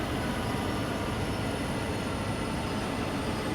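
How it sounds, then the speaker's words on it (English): A push-pull grain train on Sherman Hill in Train Sim World rumbles steadily, a continuous loud rolling drone of wheels and engine with a faint high whine above it. "we got a little push-pull grain train"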